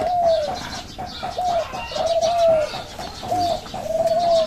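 Pigeons coo repeatedly in a steady series of low, rounded calls, close and fairly loud, with faint chirping and a brief wing flutter in the background.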